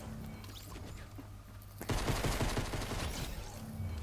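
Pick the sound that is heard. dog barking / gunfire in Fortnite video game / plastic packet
gunfire in Fortnite video game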